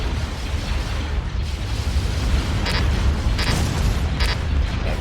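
A unit blowing up during a battle in the Empire at War video game, a loud rumbling explosion with several crackling bursts layered over a dense, continuous roar of combat, with no voices.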